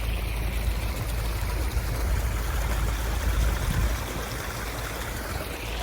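Water rushes steadily through a culvert, a loud, continuous close-up flow with gurgling and splashing, no voices.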